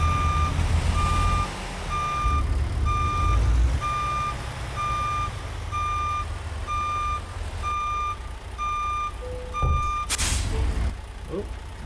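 Reversing beeps from a Peterbilt 389 backing up to hook a trailer in American Truck Simulator, a steady evenly spaced series of loud beeps over diesel engine rumble, ending with a sharp hiss of air near the end.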